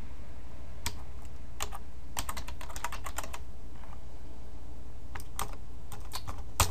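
Uneven bursts of key presses on a computer keyboard during web development work, clicking in quick clusters with short pauses between, close and clear over a faint steady room hum.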